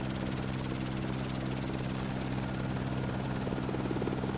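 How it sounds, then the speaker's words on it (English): A helicopter in the survival video game No One Survived drones with a constant, loud rotor and engine hum, steady and unbroken throughout, with no talk. "I'll have to make a landing pad for this helicopter."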